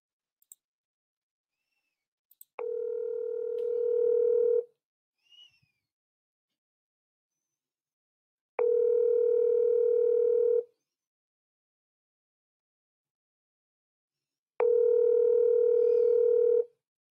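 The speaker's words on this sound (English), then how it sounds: "we're trying to get Dana on the phone here" A telephone line gives three long, steady tones with about four seconds of silence between them while a call is being placed, clean and alone.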